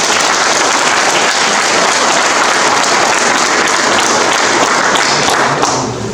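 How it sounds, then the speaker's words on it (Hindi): Newly promoted police officers at a pipping ceremony in East Siang break into loud, sustained applause, a dense roomful of clapping that carries on for several seconds and fades slightly at the end. "एक बार तालियां बजा दें अपने लिए।"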